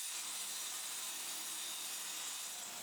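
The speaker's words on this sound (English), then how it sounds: "Rip slices into the handle tip to wedge into the head." A saw rips slices into the handle tip of a wooden mallet made from scrap wood, a steady hissing, rasping cut that runs continuously and fairly faintly throughout.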